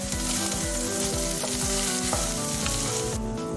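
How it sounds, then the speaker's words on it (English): Celery and spring onions sizzle and crackle steadily in a hot pan while being stirred, with repeated scraping of a utensil against the pan. "we're going to add the celery and give it a bit of a stir."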